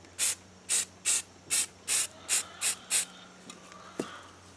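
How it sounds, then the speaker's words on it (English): Earth brown spray paint is misted lightly over a camo design in eight short, evenly spaced hissing bursts from a nearby can, followed by a faint tap and quiet handling. "and I just lightly spray over the area"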